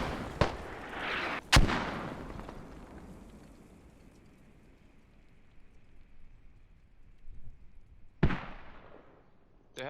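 Mortar fire in a military shooter video game match: a few sharp booming blasts near the start and another around eight seconds, with a low rumbling tail of explosions in between.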